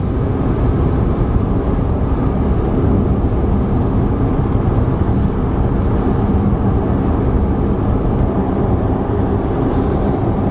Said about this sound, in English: let's put climate control back on and floor it